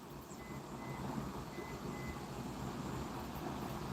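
Reversing beeps from a vehicle, a faint high tone pulsing in short evenly spaced pairs over a steady low background rumble, somewhat distant.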